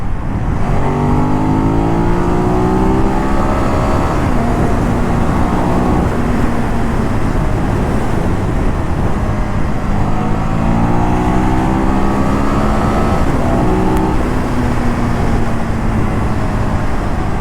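A Ducati Monster 821 motorcycle engine revs hard in repeated rising sweeps, a loud, close, continuous roar climbing and falling in pitch as it accelerates through the gears.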